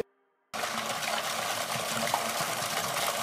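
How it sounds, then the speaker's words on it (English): Steady loud rushing of water from an electric pump drawing from the Mekong River on Koh Trong Island, starting abruptly after a brief silence and running continuously. "Now, the process is aided by electrical pumps."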